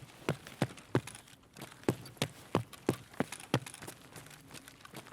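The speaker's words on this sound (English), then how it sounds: "Although I hear footsteps" Footsteps thud in a Tarkov-style first-person shooter, a steady run of sharp, evenly spaced steps for about five seconds with no talking over them.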